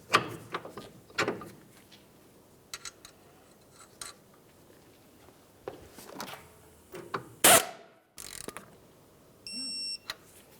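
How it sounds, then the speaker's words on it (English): Ratchet snugging the outer tie rod end nut on a 2010-2013 Ford Transit Connect front knuckle, quiet scattered clicks and metallic ticks in short bursts with pauses, plus one sharp loud burst. "Snug up the nut and then torque it to 35 foot-pounds."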